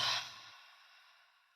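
A single deep exhale during a yoga practice, lying supine: a soft, breathy rush of air that starts fairly strong and fades away over about a second and a half.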